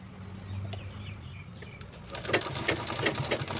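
A sewing machine stitches a hand purse, starting with a soft low hum and then running in short, quick bursts of rapid stitching, faint in a quiet room with no talk.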